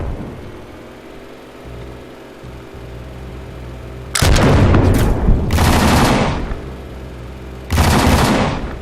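Shotgun blasts in the MAV video game: two loud, broad bursts of gunfire, the first with a quick follow-up shot, then a second burst near the end after quieter mechanical background hum.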